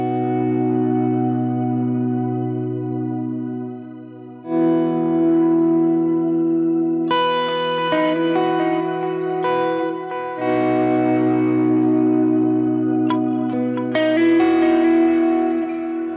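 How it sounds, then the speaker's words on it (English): Electric guitar volume swells drenched in reverb and echo, sustained chords fading in softly and blooming into long, shimmering washes, with a few brighter plucked notes over the top and no talking. "by playing with your volume off and then slowly, gradually letting the volume in."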